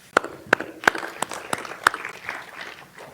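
A small audience at a school board meeting claps for a staff member, with several sharp, distinct claps standing out from a thin, scattered patter of applause.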